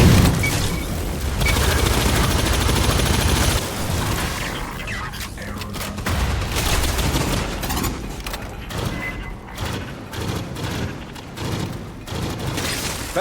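Grenade blasts and gunfire in Aliens: Fireteam Elite: a heavy, loud explosive roar first, then bursts of shots that come again and again, with no voices over them.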